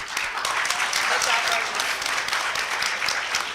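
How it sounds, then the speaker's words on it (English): An audience at a quiz-style challenge event breaks into a round of applause, dense steady clapping from a crowd lasting throughout. "give me a round of applause if you thought Berbice won"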